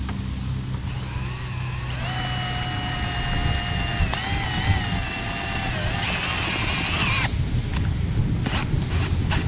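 A power drill whines for several seconds as it drives a self-tapping screw into a Ford F-150 while mounting an LED tail light module, its pitch wavering under load, then it stops and a few clicks follow.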